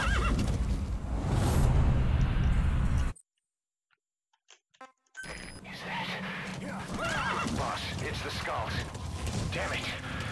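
In Metal Gear Solid V, a horse neighs and whinnies amid hoof clopping and game noise, broken by a sudden near-silent gap before the noisy scene resumes.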